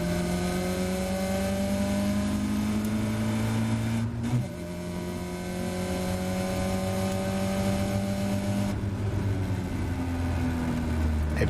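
A Caterham race car accelerating from the start at the Silverstone Grand Prix circuit. The engine note climbs steadily through the gears with brief dips at each shift, loud and close in the cockpit, joined by strong wind and road rumble.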